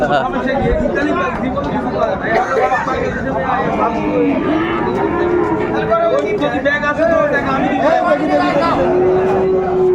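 Cattle, including large bulls, low and moo amid a dense, steady crowd chatter at the busy outdoor Ambari livestock market in Dinajpur, voices and animal calls overlapping throughout.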